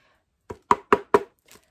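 Four sharp knocks on the plastic steamer pot of a MasterPro food processor, evenly spaced and close, with a fainter fifth tap trailing after a short pause; no talking.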